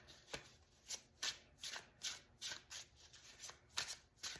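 Oracle cards being shuffled by hand during a reading, a quick run of crisp riffling bursts repeating about every half second, close and fairly soft, with no talking.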